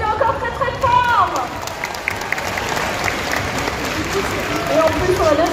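Audience applause for a cosplayer at a cosplay contest at the Bordeaux Geekfest, a dense, steady wash of clapping from a sizeable crowd lasting the whole stretch, with some babble and a few voices over it.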